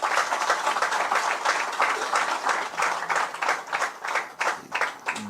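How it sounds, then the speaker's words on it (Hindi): An audience at a speech by Chief Minister Mohan Yadav claps steadily and rhythmically, a close, dense patter of applause that carries on without a break. "ताली वाली बजाओ इस बात पे"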